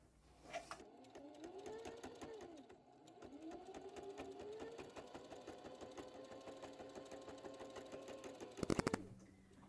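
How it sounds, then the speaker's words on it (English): A sewing machine stitches the fabric of a tote bag, running in a steady rapid whir with a brief pause and a louder clatter near the end. "If you pull the fabric while the needle is going up and down, it can actually pull the needle"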